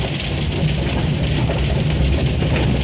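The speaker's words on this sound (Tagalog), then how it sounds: "Ayun o, malakas ang ulan." Heavy rain pours steadily, a loud, dense hiss with no pauses and no voices.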